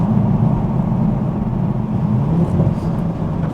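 A Toyota GR Supra with a titanium exhaust and an ARMASPEED intake cruises on a night drive in the UK, its engine a steady, deep drone that holds constant with no voices.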